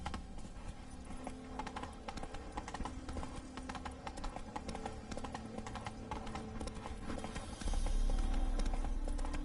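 A horse gallops in the Witcher 3 video game, its rhythmic hoofbeats clopping steadily and close, with game music and ambience beneath and a louder swell near the end.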